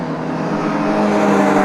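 Porsche race cars, including 924s, racing at Silverstone in a BRSCC round, with a loud, continuous engine roar that rises slightly as a car passes close by.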